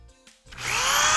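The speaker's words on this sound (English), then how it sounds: "I'm going to start drilling" A power drill fitted with a spade bit bores into wood. A brief low motor hum and quiet stretch come first, then a loud, steady whine with a grinding cut takes over and holds to the end, close by and without speech.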